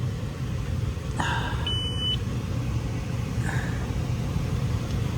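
Refrigerant leak detector held up against a coil, giving two short electronic beeps about two seconds apart over a loud steady background drone.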